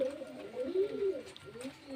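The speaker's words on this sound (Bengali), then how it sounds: "ছোট ঠোঁটের পায়রা হচ্ছে বিহারি সবুজ গম ঠোঁটের পায়রা" Bihari green short-beaked pigeons coo in a soft, continuous warbling run, close by and moderately loud, with no pause across the whole stretch.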